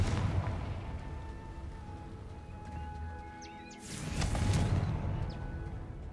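A Confringo fire spell bursts in Hogwarts Legacy, a sudden loud explosive whoosh midway through after a quieter stretch of ambient game sound with faint bird chirps.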